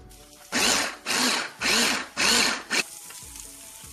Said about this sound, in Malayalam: നമുക്ക് ഫ്രൈ ചെയ്തിട്ടുള്ള ചിക്കൻ ബ്ലെൻഡറിലേക്ക് ഇടാം ഇത് ബ്ലെൻഡറിലിട്ടൊന്ന് ബ്ലെൻഡ് ചെയ്തെടുക്കാം